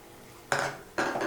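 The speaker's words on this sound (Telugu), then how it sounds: "యాలకుల పొడి వేసుకొని ఒకసారి బాగా కలియబెట్టి" A spoon stirs cardamom powder into chakkara pongali in a pot, two quick scraping clinks of metal against the pan, close up with no talk.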